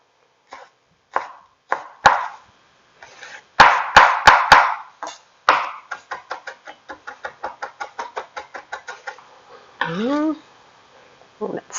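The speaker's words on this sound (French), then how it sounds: "Là, on va couper nos échalotes en petits morceaux aussi." A knife chops shallots finely on a cutting board for tuna tartare, first in scattered sharp knocks, then in a fast, even run of close, crisp taps; a sliding scrape sounds near the end.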